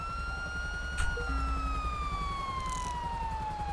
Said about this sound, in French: Je vais couper la sirène